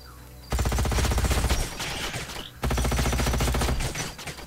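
Two long bursts of rapid automatic fire from the turn-based sci-fi strategy game Age of Wonders: Planetfall, loud and rattling, separated by a short pause.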